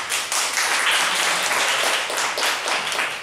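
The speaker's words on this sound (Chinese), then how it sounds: "让我们大家热烈掌声一下" A roomful of audience members applauding to welcome speakers at a talk, a thick continuous wash of clapping at fairly loud level.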